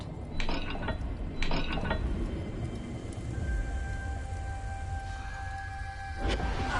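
Puzzle dial mechanism turned in a Hogwarts video game, giving a few clicking, ratcheting turns followed by a sustained whirring tone and a final mechanical clunk.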